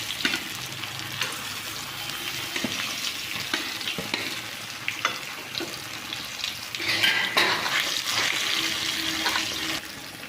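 Mashed potato filling for aloo paratha fries in hot oil, a dense continuous sizzle with frequent stirring scrapes, growing louder and busier in the second half.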